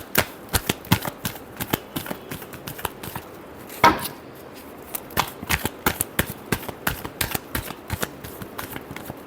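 Tarot cards are shuffled by hand in quick rhythmic riffles and taps, a long run of crisp snapping bursts close to the mic with one short pause partway through.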